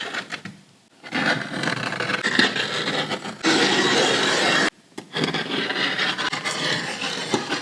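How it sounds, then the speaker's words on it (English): A hand tool rasps and scrubs continuously along the cut edges of a dash gauge panel, a close, dense scraping broken by two short pauses. "I'm just going around and cleaning up a bunch of the edges."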